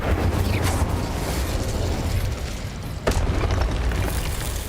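The Incendio fire spell cast in the video game Hogwarts Legacy, a loud sustained roaring burst of flame with a second sharp whoosh partway through.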